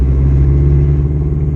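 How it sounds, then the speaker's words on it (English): Cabin view of a Scion FR-S with an aftermarket exhaust, a deep steady engine drone and low exhaust rumble filling the interior, loud and even while cruising, with no talk over it. "as far as the sound inside the car with this exhaust, like it's got a pretty healthy sound to it"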